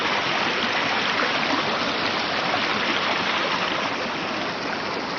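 A mountain stream rushes near the Dhungin Lamatar waterfall in the Kathmandu Valley, a steady, loud, unbroken roar of water that holds even throughout with no voices.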